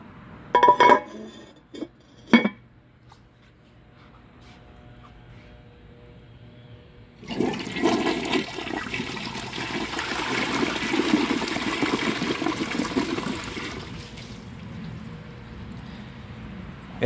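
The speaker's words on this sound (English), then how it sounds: "It has a nice strong flush just like it's supposed to" A 2007 Kohler Highline toilet, rebuilt with a 2011 Highline Class 5 tank and an original Ingenium flapper, lets out a strong, loud rushing flush that runs steadily for several seconds before easing into a quieter refill trickle, preceded by a few sharp clinks.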